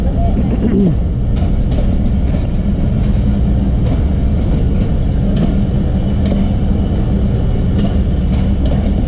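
Jaffar Express passenger train rolling on rails, a loud, steady rumble with faint rhythmic clicks from the track, close by and continuous, with someone talking over it.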